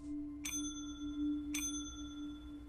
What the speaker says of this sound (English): He rang the bell a couple of times